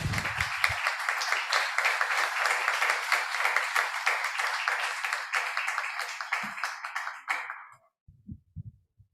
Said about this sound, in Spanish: les quiero dedicar un aplauso especial